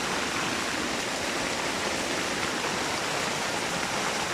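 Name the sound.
rain falling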